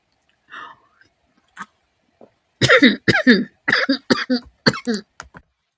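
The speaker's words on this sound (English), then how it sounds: "I paused for the coughing" A small throaty sound, then a run of six or seven harsh coughs in quick succession, close and loud, with no talking.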